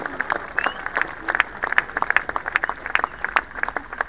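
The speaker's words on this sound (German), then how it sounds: "Ja, ich finde, das hat Applaus verdient." Scattered clapping from a small crowd at a Monday demonstration at the Brandenburg Gate in Berlin, individual claps distinct and irregular, outdoors and moderately close.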